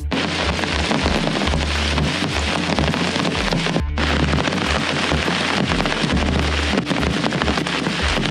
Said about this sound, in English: really, really heavy downpour